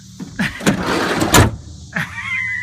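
The sliding van-style cab door on a Cat 321D excavator rolls and thuds shut, with clunks and a sliding rumble, followed by a faint whirring tone.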